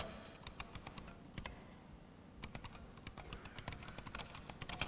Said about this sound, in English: And now I can type.